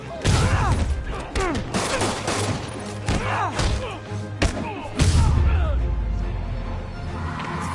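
Rapid gunfire and heavy thuds fill a Spider-Man video game fight, with dense volleys of shots under overlapping character voices.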